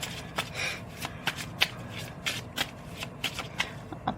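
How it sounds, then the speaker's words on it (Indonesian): A deck of tarot cards being shuffled by hand, with a run of crisp riffling clicks and soft slaps repeating in an irregular rhythm, close and fairly quiet, with no talking. "aku shuffle dulu kartu ini"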